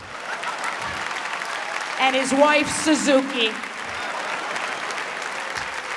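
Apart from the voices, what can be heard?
audience applause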